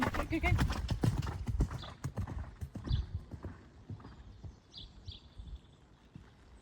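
A horse's hooves beat out a counter canter during a schooling ride, with steady, rhythmic, close thuds and clops that fade slightly toward the end, with a faint murmur of voice in the background.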